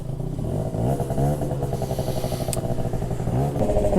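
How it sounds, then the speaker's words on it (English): The two-stroke engine of a 2008 Yamaha Zuma scooter runs steadily with a rattly, buzzing idle, and the revs swell slightly toward the end. "This 2008 Yamaha Zuma is a two-stroke scooter."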